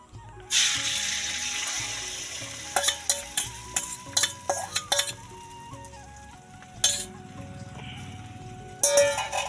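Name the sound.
egg frying in hot oil in a pan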